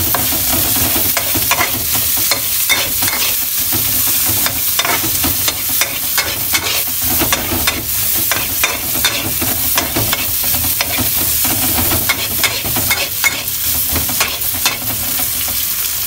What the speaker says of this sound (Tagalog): So lalagyan na po natin yung ating sibuyas. Medium heat lang po ako.